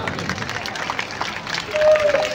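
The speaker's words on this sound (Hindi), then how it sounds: "इन चारों के लिए जोरदार तालियां" A crowd at an outdoor Ramleela performance in Paschim Vihar applauds four child performers, a busy, moderately loud patter of clapping mixed with crowd voices and a steady background hum.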